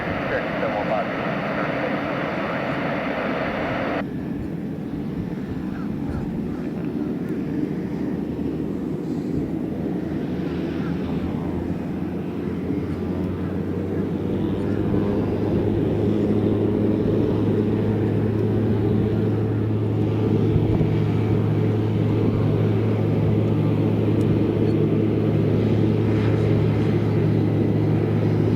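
A Cessna 182RG flying in the airport traffic pattern gives a steady, loud engine drone from inside the cabin, and the tone deepens and swells partway through, with occasional voices over it.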